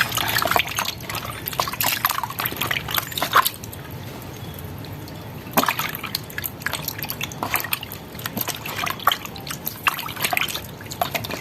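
Aloe vera is washed in salt water, with intermittent trickling, dripping and sloshing water sounds close by, and a quieter pause in the middle before the splashing resumes; no voices.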